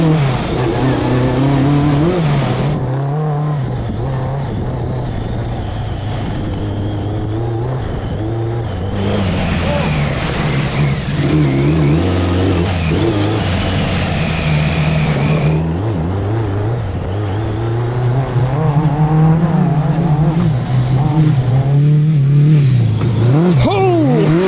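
A 1000cc trophy truck races around a corner, its engine revving hard and rising and falling in pitch across repeated accelerations, loud and close, with people talking over it at times.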